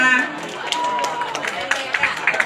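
Scattered clapping from students at an outdoor junior high school literacy event, sparse uneven claps rising near the end amid background chatter and voices.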